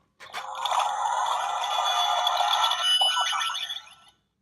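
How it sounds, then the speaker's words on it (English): A buzzy electronic sound effect from the B button of a Kamen Rider Ex-Aid Gashacon Bugvisor toy rings continuously for about four seconds, bright and close, then cuts off abruptly. "That's one sound effect you can get from the B button."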